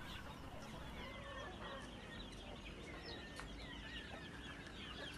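Aseel roosters cluck and chatter in a busy, continuous farmyard din, several birds calling over one another at moderate distance without any talk.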